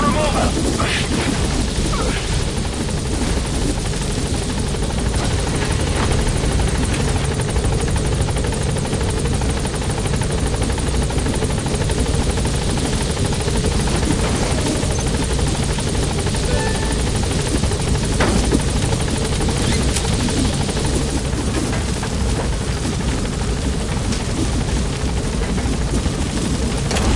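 Pequod helicopter from the Metal Gear game hovering, a loud continuous rotor drone with a dense low thrum that stays steady throughout, while a voice talks over it at times.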